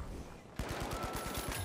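Rapid automatic gunfire in the video game The Finals, a quick burst of evenly spaced shots cutting in abruptly after a quiet moment.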